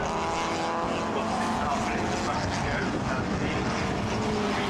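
Saloon race car, a Hillman Imp among the field, roaring through Paddock Hill Bend at Brands Hatch in a historic saloon race; a steady, loud engine drone fills the whole moment with no break.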